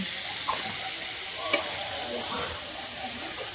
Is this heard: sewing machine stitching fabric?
no